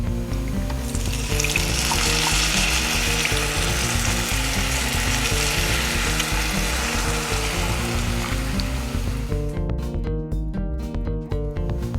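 Tamarind water goes into a simmering ennai kathirikai brinjal gravy, giving a loud, steady sizzle and bubbling throughout, with tonal music-like sounds underneath.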